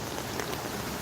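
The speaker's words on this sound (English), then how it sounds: "I think it's raining." Rain falling outdoors on a rainy afternoon street walk near a magnolia tree, a steady, even hiss of drops without a break.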